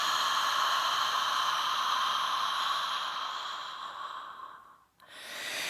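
A long steady breath pushed out through the mouth during a yoga breathing exercise, a soft airy hiss that fades toward the end before a short fresh intake, close and without talk.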